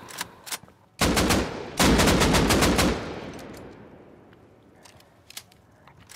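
An AK rifle fires in the video game Warzone, with two long bursts of rapid automatic shots after a few single cracks, loud and close, fading into a ringing tail with scattered later shots.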